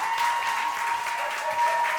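A live audience applauds a band at a Cardiff coffee shop gig, a steady dense wash of clapping that holds evenly throughout with no voices over it.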